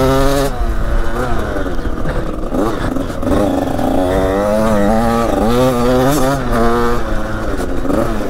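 A KTM SX 85 small single-cylinder two-stroke motocross bike engine revs loud and close, its pitch rising and falling with throttle blips and sustained high revs throughout.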